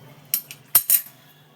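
A spoon clinks against a bowl while mushroom and soybean curry is served, giving a few sharp, close metallic taps in otherwise quiet surroundings.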